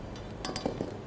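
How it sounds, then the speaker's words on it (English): A metal whisk clinks against a bowl while breaking up lumps of meringue folded into a gluten-free chocolate almond sponge batter, giving a few light, close taps with no talking. "You just take your whisk and then you just break the lumps of the meringue"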